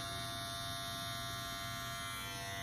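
Suprent electric hair clippers running steadily at close range, a continuous even motor buzz with a fine high whine and no talking.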